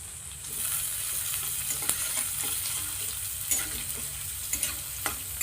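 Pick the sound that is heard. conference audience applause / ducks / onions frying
onions frying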